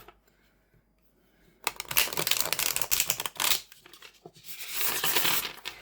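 Tarot deck of stiff, thick cardstock being shuffled up close: after a quiet pause, crisp riffling flutters and snapping card slaps come in two bursts.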